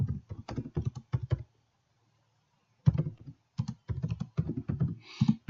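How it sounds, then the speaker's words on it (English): Someone types a short name on a computer keyboard: bursts of close, crisp key clicks, a pause of about a second and a half, then more rapid, uneven keystrokes. "So I can type my name, something like this here"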